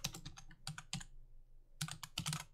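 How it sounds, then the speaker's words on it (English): Quick bursts of keystrokes on a computer keyboard, clustered clicks in two runs separated by a short pause, close and fairly quiet. "In the second text, we could type something like"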